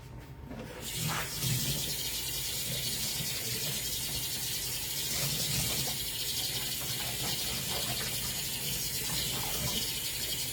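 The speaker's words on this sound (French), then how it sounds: "on va passer le moule sous l'eau très chaude" Hot tap water runs steadily over a waffle mould in a kitchen sink, a continuous close hiss and splash with some faint clinks as the mould is handled.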